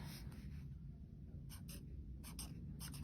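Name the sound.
writing by hand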